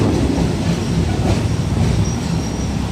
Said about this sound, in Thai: ผมกำลังเข้าสถานี